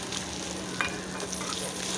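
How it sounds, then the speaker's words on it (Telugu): Fenugreek and coriander seeds fry lightly in a pan, giving a steady close sizzle with faint stirring and no voices. "అది వేసి కొంచెం లైట్గా వేయించుకోవాలి."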